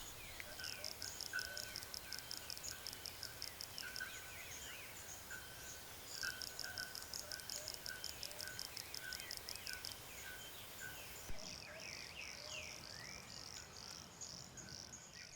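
Male toads in the Atlantic Forest give aggressive territorial calls: faint, rapid pulsed trills in repeated bursts, set against a soft background of insects and birds.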